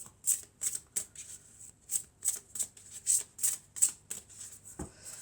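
Tarot cards are shuffled before a reading, a close, crisp series of quick riffling flicks in an irregular rhythm, alone with no talking.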